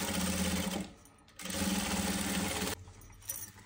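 An electric sewing machine stitches a velvet kurti in two loud, steady runs of rapid needle whirring, separated by a short pause, with a brief lull and a softer burst at the close.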